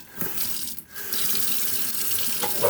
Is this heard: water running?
yes